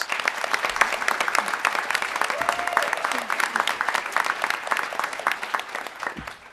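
Audience applause at an awards event honoring New York City Asian American community leaders, steady clapping from a sizable crowd throughout, moderately loud and sustained, fading slightly toward the end.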